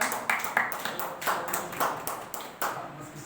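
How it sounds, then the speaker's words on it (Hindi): Audience clapping to welcome a speaker at a training session, a loose series of sharp claps in an uneven rhythm, moderately loud and with no talking over it. "जोरदार तालियों सर।"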